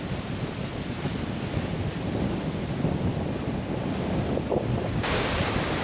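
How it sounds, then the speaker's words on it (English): Strong coastal wind roars into the microphone of a motorcycle riding along Highway 101, a dense, continuous buffeting rush that stays loud throughout with no speech. "I don't even know if you can hear me, but it is windy."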